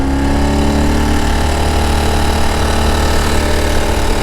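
A Ural Gear Up 2WD adventure sidecar motorcycle engine drones loud and steady throughout a test ride, with a constant rough, mid-pitched rumble and wind noise and no pauses.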